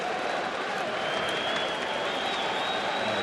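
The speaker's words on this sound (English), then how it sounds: "crowd's letting them know about it right now" A baseball stadium crowd at a 2013 playoff game between the Red Sox and Rays cheers and applauds steadily after a ground rule double, a dense, loud, sustained roar of many voices and clapping throughout.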